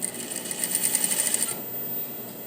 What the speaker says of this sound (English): I'm starting here, starting right on the underarm, and I'm edge stitching right here.